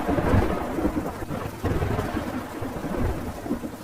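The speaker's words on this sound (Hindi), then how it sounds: "फिर जोर से बारिश होने लगी।" Heavy rain pours steadily over farm fields, with low thunder rumbling close by throughout; no voices, just the dense wash of the downpour.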